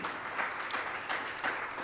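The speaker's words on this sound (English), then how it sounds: "Give Community Bank a great round of applause for putting this together." Luncheon audience at a multi-chamber business expo clapping for a bank sponsor, a short, fairly quiet patter of many hands, steady and without talk.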